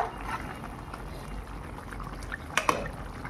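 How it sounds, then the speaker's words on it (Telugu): Chicken curry simmers in a covered pot, a faint, steady bubbling hiss with a couple of soft pops near the end, heard close up and alone. "చికెన్ అంత బాగా ఉడుకుతుంది"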